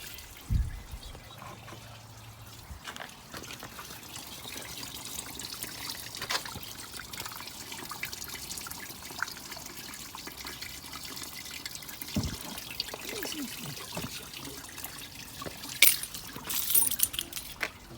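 Coolant draining from a 2008 Ford Territory radiator, a steady soft trickle and splash of liquid running continuously with faint clinks, fairly quiet and without speech.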